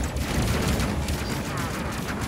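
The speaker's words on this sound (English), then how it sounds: "There's another explosion there." Dense, continuous combat noise from the space-battle game Space Crew, with rolling explosions and rapid gunfire packed together at steady loudness, a voice talking faintly underneath.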